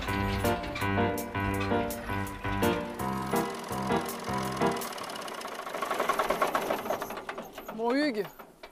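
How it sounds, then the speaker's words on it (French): A 50-year-old tractor engine chugs in a steady, rhythmic knock that is loud and close at first, then blurs into a rougher running sound as voices talk over it. "C'est un tracteur qui a quand même 50 ans."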